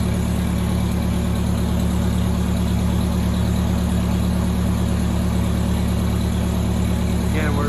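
A race car engine runs steadily on a dyno during calibration, a loud, dense, constant drone with a strong low rumble and no pauses from start to finish.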